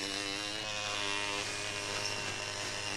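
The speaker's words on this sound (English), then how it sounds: "Just my electric toothbrush" An electric toothbrush gives a steady, continuous motor buzz with a harmonic whine, held at an even level throughout with no talking.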